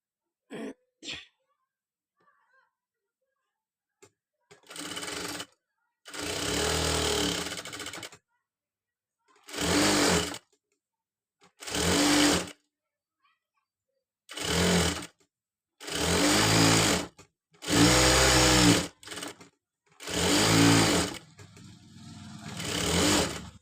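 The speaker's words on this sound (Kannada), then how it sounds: "ಇನ್ನೊಂದನ್ನು ಸ್ಟಿಚ್ ಮಾಡ್ಕೋತೀನಿ" A sewing machine stitches front tucks on a Katori blouse in about eight separate bursts of steady mechanical whirring, close and loud, with brief silent pauses between runs and no talk.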